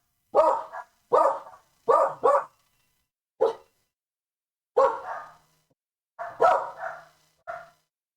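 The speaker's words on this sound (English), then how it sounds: "Barking." Several dogs bark in short, loud bursts, mostly single and paired yaps with brief pauses between them, close by and with no talking over them.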